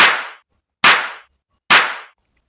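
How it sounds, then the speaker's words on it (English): A synthesized snare built from the tail of a stock FL Studio clap sample hits three times at an even, moderate pace, each a crisp bright burst decaying quickly into silence. "I'm using the tail of the clap for the new snare."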